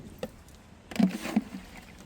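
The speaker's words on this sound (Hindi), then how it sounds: "तो जड़ों के पास बिल्कुल आपको ये खाद डालनी होती है" Liquid mustard-cake fertilizer is poured onto soil around plant roots, making a short soft splash and gurgle up close after a faint earlier drip, with no voices.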